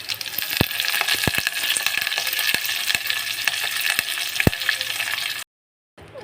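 Onion and curry leaves fry in hot oil with a steady, loud crackling sizzle and scattered sharp pops throughout, then a brief cutoff to silence near the end.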